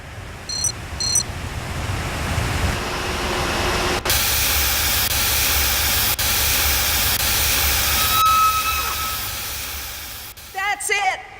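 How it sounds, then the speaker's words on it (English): Steam vents in a loud, continuous broadband hiss in Jurassic Park: The Game, surging after a sharp clank and holding steady for several seconds before tapering off, with brief beeps at the start and end. "The steam has been vented."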